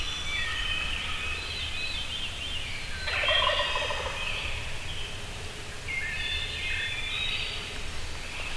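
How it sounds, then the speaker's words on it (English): Wild turkeys gobble from the roost before dawn, several bursts of rattling calls rising out of a steady outdoor background, moderately distant. "So we got in there before light, and we heard the birds on the roost, and Andy started working them."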